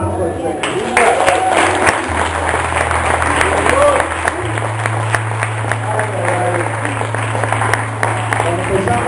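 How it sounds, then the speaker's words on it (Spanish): Church congregation applauding in response to a preacher's call, a sustained wash of clapping and crowd noise over a low steady hum, lasting the whole stretch. "¿No le das un aplauso al Señor?"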